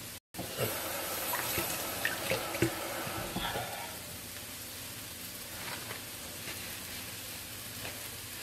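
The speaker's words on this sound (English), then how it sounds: "Let me rinse my knife off." A kitchen knife rinsed under a running tap, a steady hiss of water splashing into a sink, with a brief gap near the start and a few clinks.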